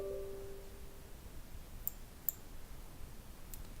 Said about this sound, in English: I simply click on the file we just downloaded.